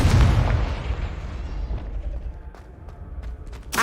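Confringo blasting spell from Hogwarts Legacy going off as a heavy, booming explosion that opens loud and rumbles away over a few seconds, with sharp crackles and pops scattered through the decay and a fresh burst at the end.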